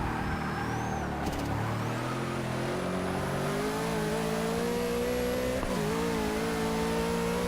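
A big pink Bentley race car in a Nürburgring racing game, engine held at full throttle with a loud, steady droning roar and rising pitch, a brief gear-change dip partway through, no talk.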